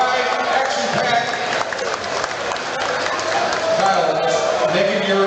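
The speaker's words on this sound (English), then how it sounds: "Let's give him a round of applause." Steady crowd applause and cheering at an MMA event after a fight, filling the space, sustained for several seconds with a dense wash of clapping and voices.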